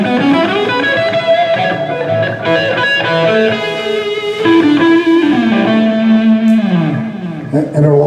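Electric guitar on a Diamond guitar played through its rhythm pickup, a sustained run of distorted notes and chords with effects, loud and close and played alone.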